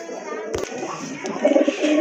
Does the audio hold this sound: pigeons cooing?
yes